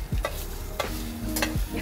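Egg bread being stirred and fried in a pan, a continuous sizzle with scraping strokes of a spatula at roughly regular intervals, close and fairly loud.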